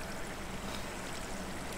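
Steady, continuous wash of flowing water in Minecraft, a dense trickling stream sound filling the short clip at a constant level with no talk over it.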